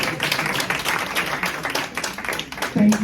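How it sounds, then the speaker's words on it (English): An audience claps in a dense, steady burst of applause that continues for a few seconds before a voice cuts in at the end. "That deserves applause."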